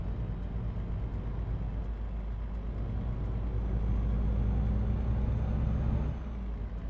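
A heavy truck engine in Euro Truck Simulator 2 drones with a constant low rumble, slightly rising in the middle before easing back, alone with no talk.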